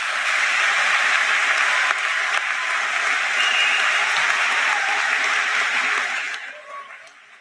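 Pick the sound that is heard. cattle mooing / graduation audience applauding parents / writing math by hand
graduation audience applauding parents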